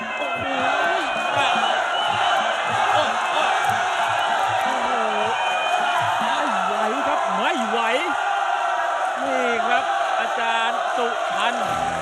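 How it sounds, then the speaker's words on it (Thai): A Muay Thai stadium crowd roars loudly and without pause, with whoops and rising yells surging over the din while a commentator talks excitedly throughout. "ตอนนี้เสียงเชียร์อื้ออึงเลย"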